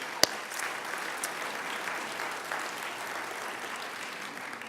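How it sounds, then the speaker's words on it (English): Applause for event sponsors at the San Francisco Asian Pacific American Heritage Awards, a steady wash of clapping from a crowd filling the hall, even in level from start to end after one sharp clap right at the beginning. "So how about a round of applause for all those sponsors?"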